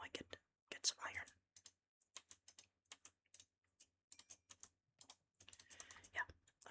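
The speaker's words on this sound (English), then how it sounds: "There are these people out here that do it without the keyboard and mouse sounds." Computer keyboard keys and a mouse click in quick irregular bursts during Minecraft survival play, close and crisp, with soft whispered talk in between the clicks.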